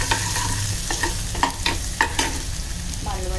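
Garlic sizzles steadily in hot oil with onion going in for a Malvani chana rassa, with a constant frying hiss and a few sharp scraping stirs of a spatula against the pan.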